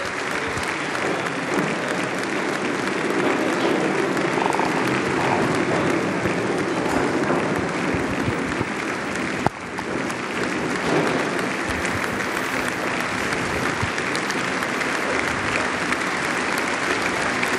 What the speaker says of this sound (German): ein langer, man muss dann sagen, wohl herzlicher Applaus für den Papst